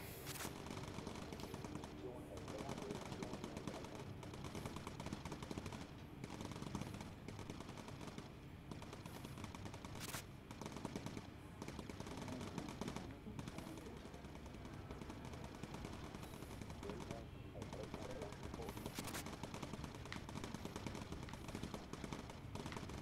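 Machine guns mounted in bomber turrets rattle in the Bomber Crew video game, long sustained bursts of rapid fire that run almost without pause, with brief louder cracks standing out and occasional faint voices underneath.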